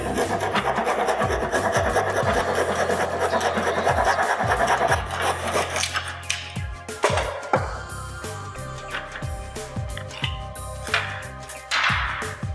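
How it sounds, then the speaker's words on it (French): A hand jab saw cuts through wooden roof battens on a slate roof, first as a continuous rasping stroke, then as slower, separate strokes with pauses, close and clear with no talking. "Donc je prends ma scie aiguille."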